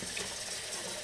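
A kitchen tap pours a continuous stream of water as it is left running to turn cold, a close, even hiss and splash with no breaks and no voices over it.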